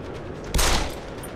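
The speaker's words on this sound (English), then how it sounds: "there's a sniper up there. Ah, they're shooting at me." A sniper's shot in the video game Deus Ex: Human Revolution, one sudden loud blast that holds a short rumbling tail over quiet game ambience.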